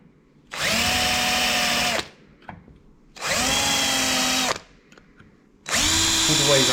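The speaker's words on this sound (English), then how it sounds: "I'm starting with a 4mm drill, and I'm just going to drill into the corners" A power drill with a 4mm bit whines loudly in three sustained bursts, drilling into the corners of recesses in a Husqvarna clutch. Each burst lasts over a second, separated by short quiet pauses with faint clicks.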